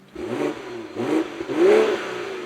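A 2022 BMW X3 M40i's 3-litre inline-six turbo petrol engine, 360 horsepower, revs in several rising surges, each swell louder than the last, heard up close with no talking.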